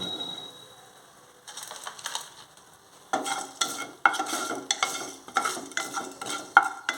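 Fenugreek seeds dry-roast in a kadai while a spoon stirs them in steady scraping strokes, faint at first, then louder and rhythmic, with a light crackle.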